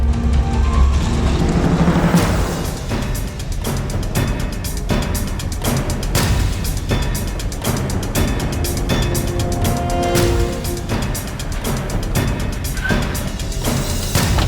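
A car is driven off the road into bushes, a rough engine drone running throughout with dense crackling and rustling bursts from brush against the body, loud and close, with no voices.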